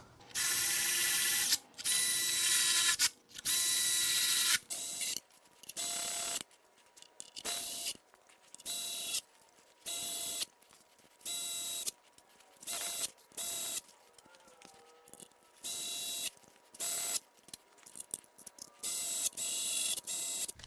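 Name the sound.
ratchet driving bolts into Pentastar V6 engine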